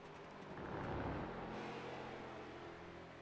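A race car drifts around the Watkins Glen track in a racing video game: a loud engine roar swells and then settles into a steady drone, with no voices.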